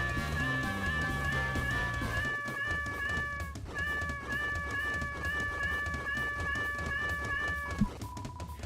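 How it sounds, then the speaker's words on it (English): A cat meows repeatedly in the video game Deltarune, with tonal, drawn-out cries layered over steady background game music, loud and close throughout. "Mike is definitely a cat"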